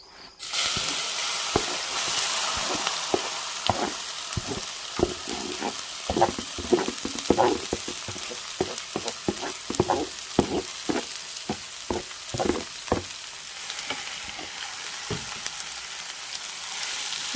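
Okra stir-frying uncovered in a pan with curry leaves and a spice mix, a constant loud sizzle broken by many sharp spatula scrapes and clatters in an irregular rhythm, close up.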